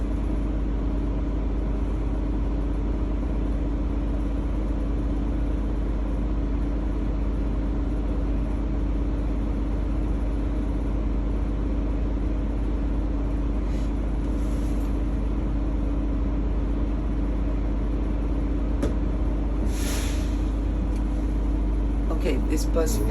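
A transit bus engine idles steadily, a constant low rumble holding throughout while the air brake pressure builds, with faint hisses near the end and talk nearby.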